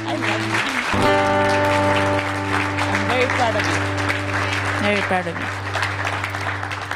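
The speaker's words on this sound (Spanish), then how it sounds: "De un aplauso, por favor." A church congregation breaks into applause during a Sunday service, steady crowd clapping that continues throughout under sustained organ or keyboard tones and voices.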